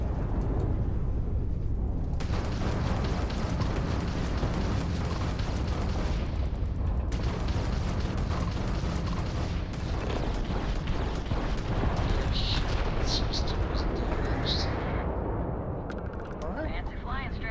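Gunfire striking the player in Starfield, a dense, continuous barrage of rapid shots and impacts filling the whole stretch with loud rumbling bursts and a few sharp metallic pings late on.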